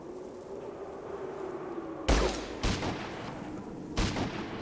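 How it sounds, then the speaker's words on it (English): Three loud, sharp shotgun blasts in a video game, the first just past the midpoint and the others about half a second and two seconds later, each a broad booming crack over a low background hum. "shotgun surprise! Shotguns have an area of effect."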